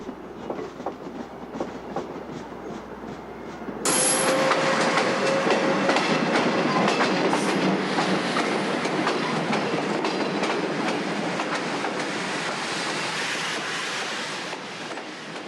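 ALCo M1 train at Gibson station on the Far Rockaway line, a loud near rumble and steady clickety-clack of wheels over rail joints that starts suddenly and continues throughout.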